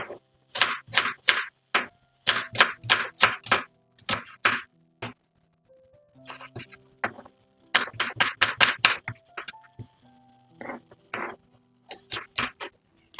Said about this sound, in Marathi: मग या प्रकारे चिरून घ्या म्हणजे अगदी पटकन कांदा हा चिरला जातो